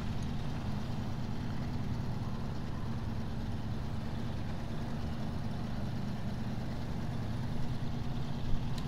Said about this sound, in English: Actually sounded like it was revving not too bad then, considering it's still in low range with the diffs on.